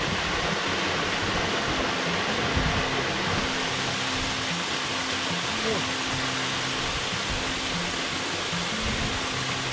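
A waterfall below Dale Head in the Lake District roars as a steady, dense broadband rush, close and continuous, with a faint hum in the background.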